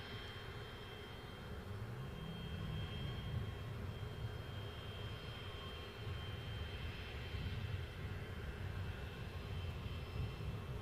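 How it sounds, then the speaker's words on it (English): Aircraft engines spool up at Glasgow airport, a steady broadband roar with a faint high whine, continuous and fairly distant throughout without talk. "I can hear the sound of engines picking up."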